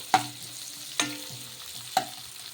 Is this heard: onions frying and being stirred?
yes